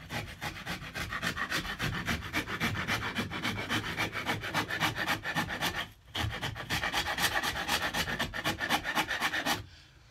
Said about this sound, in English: Again, this is coarse filing.